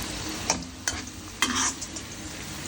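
Onions fry in a pan with a steady close sizzle while a spoon stirs them, scraping and knocking against the pan a few times.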